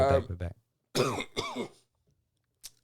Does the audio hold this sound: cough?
yes